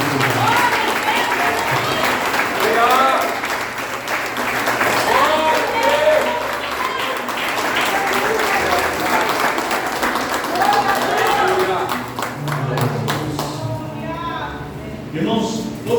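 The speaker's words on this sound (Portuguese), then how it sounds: "dá uma salva de palmas àquele que morreu na cruz" Sustained congregation applause fills a church during a communion service, a broad continuous wash of clapping with voices calling out over it, easing toward the end.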